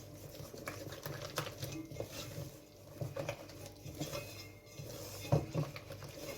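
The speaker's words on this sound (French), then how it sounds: "Donc là, vous mélangez les deux derniers jaunes." The last two egg yolks are mixed in a bowl for a pear and chocolate charlotte, a steady scraping and tapping of a utensil against the bowl with a low background hum throughout.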